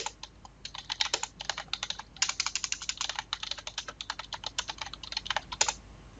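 Fingers type quickly on a computer keyboard, a dense, continuous patter of crisp key clicks close by, with a short pause near the middle.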